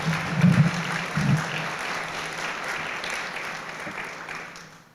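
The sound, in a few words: audience applause at a guide dog graduation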